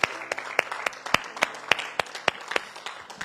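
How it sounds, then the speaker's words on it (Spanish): A church congregation claps at a Spanish-language service, with sharp, rhythmic claps in a steady beat, loud and close, over a faint murmur of voices. "Denme un aplauso al Señor, pero si se lo va a dar, démoselo fuerte."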